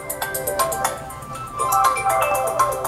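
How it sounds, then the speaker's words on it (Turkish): A Meizu Pro 7 smartphone rings with an incoming call, a bright repeating melodic ringtone playing steadily and close by for a few seconds. "Yani şu an dediğim gibi şu an telefon çalıyor."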